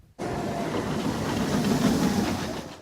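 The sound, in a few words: roller coaster running on track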